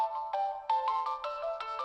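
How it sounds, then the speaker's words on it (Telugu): A phone ringtone plays a bright melodic sequence of short repeated note bursts, clear and close, with no talk. "ఫోన్"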